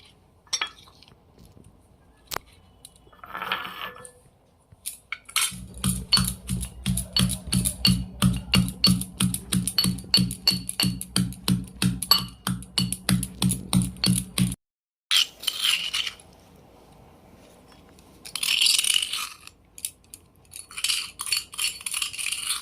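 Pounding of grated ginger and tulsi leaves in a mortar and pestle, a steady run of rapid, close thuds and clinks that stops abruptly and then gives way to a few scattered scrapes and knocks.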